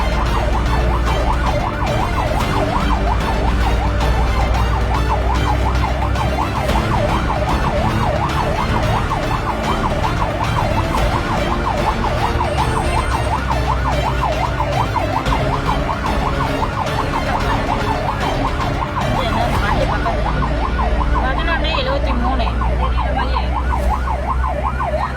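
An ambulance siren wails continuously on a mountain road near Kodaikanal. The steady, loud cycling tone is heard over road and engine noise, with a car or traffic rumble underneath, for the full duration.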